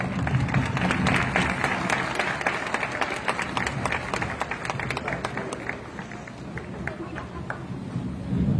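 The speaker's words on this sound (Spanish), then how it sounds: "Un fuerte aplauso para recibirlos" Sustained applause from an audience greeting the arts and culture committee and the mayor at a recognition event in San Pedro, Coahuila, a steady dense wash of clapping with crowd murmur running the whole time.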